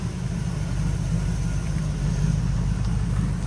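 Deep low rumble of a 1967 Camaro RS restomod with a suspect front end as it pulls away, a steady loud engine drone with a slight swell near the end and no talking.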